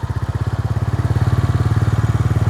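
Royal Enfield Goan Classic 350 single-cylinder motorcycle idling at a stop, a loud close thumping exhaust with an even, rapid pulse that quickens slightly toward the end.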